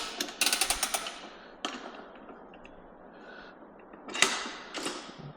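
A tire iron levers a motorcycle tire on a Rabaconda street tire changer, giving sharp metallic creaks and clicks in bursts, a quick rattling run early, then isolated snaps and a louder scrape near the end, close and clear.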